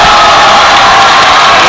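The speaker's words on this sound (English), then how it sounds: "Crowd loving it." Volleyball crowd at a men's college match against UC Santa Barbara roaring and cheering, a loud continuous wall of voices filling the arena without a break.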